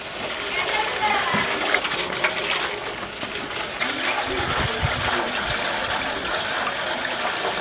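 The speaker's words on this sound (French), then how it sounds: "de l'eau coule toujours des robinets" Tap water running steadily in a home in Foundiougne, Senegal, a continuous splashing trickle with a few louder gushes, close and moderately loud, with voices talking over it.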